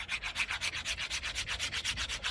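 A Bark River Fox River EXT-1 knife shaves wood in quick, close, rhythmic strokes, roughly a dozen scraping rasps in steady succession with no talking.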